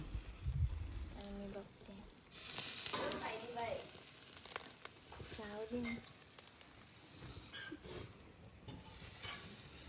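Tandoori food sizzling and frying over a wood-fired village stove, a soft steady hiss with occasional stirring clatter, under people talking nearby.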